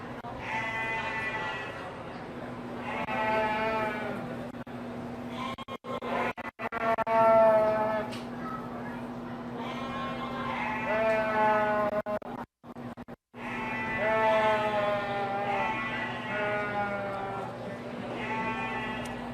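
Several sheep bleat over and over at a county fair sheep show, loud, wavering cries overlapping one another in a near-continuous chorus with only brief pauses.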